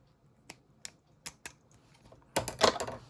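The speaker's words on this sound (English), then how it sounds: "it's got this sort of like elastic band on that you need to snip off" Scissors snip an elastic band off a Micro Machines toy fire ladder truck: a few sharp, isolated clicks at intervals, then a brief cluster of louder plastic rustling and snapping, all up close.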